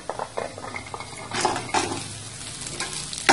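Small onions sautéing in a pan for a black chickpea curry, stirred with a utensil that gives a few scraping knocks over a soft, steady sizzle at close range.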